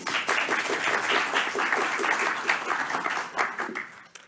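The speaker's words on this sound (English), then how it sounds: "one big applause again" A university lecture audience gives a steady round of applause after a question session; dense clapping carries on evenly for a few seconds, then thins and fades.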